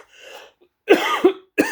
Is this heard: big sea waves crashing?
no